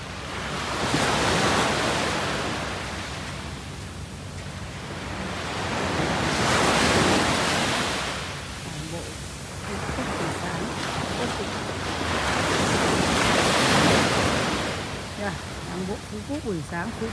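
Ocean waves surge and recede on a Phu Quoc beach in broad, rhythmic swells every few seconds, loud and close with wind buffeting the microphone.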